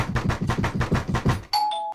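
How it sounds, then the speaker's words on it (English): A doorbell at a neighbor's door rings out in a clear two-tone chime right after a run of rhythmic thumping, bright and close in a tabletop game session. "Hitting the doorbell."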